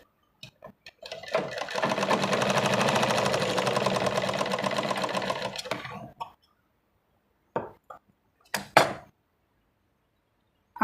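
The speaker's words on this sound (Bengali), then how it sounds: "এদিকটা আমি পুরোটাই সেলাই করে দিচ্ছি" A sewing machine runs in one steady, continuous burst of stitching for about five seconds along a salwar seam, then stops, followed by a few scattered handling clicks and knocks.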